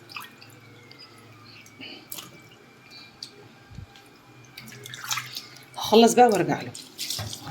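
Tap water runs and splashes intermittently in a kitchen sink while fish is washed and rinsed, with faint drips, a burst of louder splashing near the end, and someone speaking over it.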